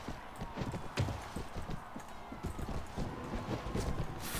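Horse hooves gallop in rapid, steady clip-clop across a Mount & Blade: Warband battle, close and fairly loud, with occasional faint whinnies and game noise underneath.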